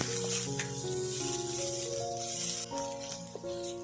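Ginger and garlic sauté in a pan while village cooking a Konkan chicken dish. A steady, bright sizzle runs throughout under a melodic music track.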